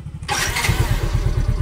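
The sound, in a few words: motorcycle engine starting after starter motor carbon brush replacement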